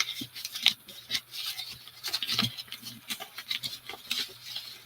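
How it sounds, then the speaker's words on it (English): A sheet of paper being crumpled by hand for a paper frame craft, a steady run of close, crackling rustles and scrunches. "So I'm crumpling it up."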